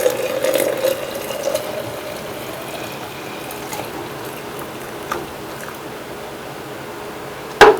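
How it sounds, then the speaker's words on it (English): Boiled herbal liquid poured into jars for soap making, a thin trickling pour with light clinks of glass, followed by quieter handling and a sharp clink at the end. "So this has come to a boil, so I'm going to pour this into my jars."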